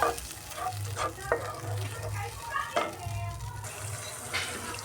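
Jaggery melting with a little water in a pan for sweet rice, giving a soft steady sizzle and bubbling with a few sharper clicks and stirring knocks, close and moderately quiet.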